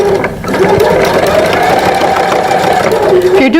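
A sewing machine runs steadily, stitching a zipper with tabs at a long stitch length, a continuous mechanical whir holding for several seconds, with a person talking over it.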